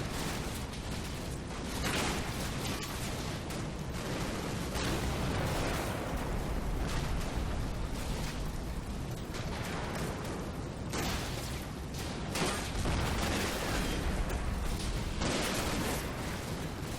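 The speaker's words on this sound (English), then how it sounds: "Yeah, the Tigers are letting loose with the cannon." Tiger tank cannons firing in the Combat Mission wargame, a dense, continuous roar of heavy gunfire and blasts with rolling booms layered throughout, loud and unbroken.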